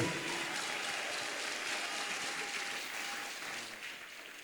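A church congregation applauding at a sermon, steady dense clapping that holds for several seconds and slowly fades, with no voices on top.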